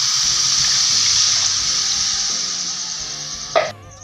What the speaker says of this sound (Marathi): यामध्ये आता आपण गरम पाणी टाकणार आहोत.